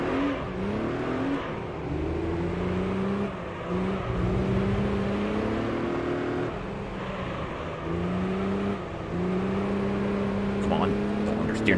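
Gran Turismo 3 racing engine, a Beetle pushing nearly 300 horsepower through the front wheels, revving up through the gears with repeated rising pitch sweeps and brief drops at each shift, loud and steady under a talking voice.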